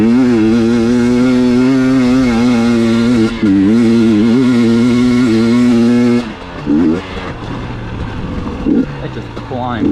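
Engine of a 2023 GasGas EX 250 two-stroke dirt bike revving loudly with a steady, buzzing drone for about six seconds, then choppier blips and falling revs.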